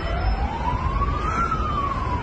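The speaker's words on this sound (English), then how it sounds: "ambulances and fire engines raced to Novi Sad train station." Emergency vehicle siren from ambulances and fire engines racing to Novi Sad train station, a single rising and falling wail over rumbling street noise, loud and fairly near.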